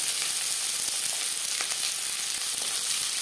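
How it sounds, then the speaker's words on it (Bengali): Chopped onions, four or five of them, sizzle in three spoons of hot refined oil, a steady dense frying hiss that holds close and loud throughout, with no talking. "দিয়ে দিলাম পেঁয়াজ।"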